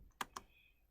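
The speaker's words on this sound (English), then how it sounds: "So I'm typing ping" A couple of quick clicks on a computer keyboard as a command is typed, two sharp near taps with quiet room tone between.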